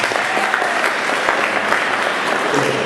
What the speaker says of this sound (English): So come on, round of applause